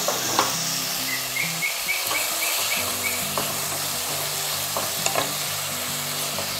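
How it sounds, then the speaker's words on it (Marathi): Tomatoes fry in a spoonful of hot oil in a pan on the stove, a steady soft sizzle with occasional stirring scrapes and clicks, close by and without talk. "तेल आता चांगलं गरम झालं की पहिलं मी टोमॅटो परतून घेणार आहे."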